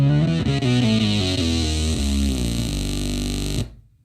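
A bass guitar runs through an Electro-Harmonix Bass Mono Synth pedal. Thick, distorted synth-like notes play in a continuous run and then cut off abruptly, with no talking.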